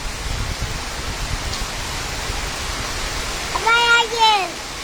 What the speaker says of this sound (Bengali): দেখো কি বৃষ্টি